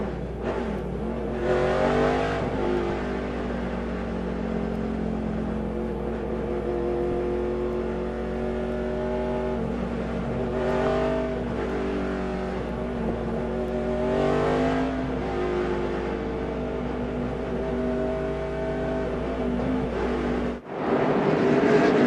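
NASCAR stock cars roar around the Indianapolis Brickyard at the 2005 Allstate 400, a steady loud engine drone with pitch rising and falling as cars pass, cutting off abruptly near the end.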